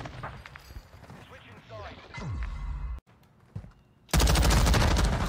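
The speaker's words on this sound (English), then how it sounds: "That's a fully automatic gun." Fully automatic gun fired in a video game: a loud, sustained burst of rapid shots bursts in near the end after quieter game noises and a brief drop, close and dominant.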